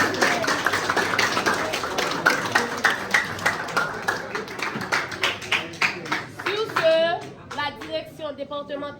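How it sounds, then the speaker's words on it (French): Applause from a gathering welcoming new health ministry employees at a ceremony at the General Hospital in Les Cayes, with hand claps and some overlapping voices, thinning into scattered claps toward the end. "On les applaudit."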